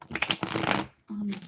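Tarot cards shuffled in quick riffling bursts close by, two short rustling runs separated by a pause, with a voice speaking around them.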